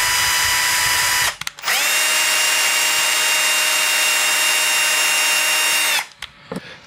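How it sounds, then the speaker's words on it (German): A power drill fitted with an M3 bit bores holes for a servo mount on a model car system charging station, giving one loud, steady whine for several seconds that starts and stops abruptly, with no speech. "Wenn die geschnitten sind, kommt der M3er Bohrer rein und hier oben die Bohrungen für das Servo werden geschnitten."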